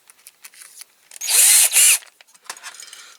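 A power drill whirs in two loud bursts of about half a second each while restoring a Dinky Toys fire engine, with a short dip between, surrounded by quieter clicks and handling noises.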